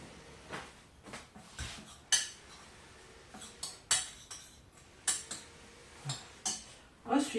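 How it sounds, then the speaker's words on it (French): A small spoon clinks against a bowl while mixing a marinade, giving about a dozen light taps and scrapes at an uneven pace, close by and with no speech. "Je vais mélanger ma marinade."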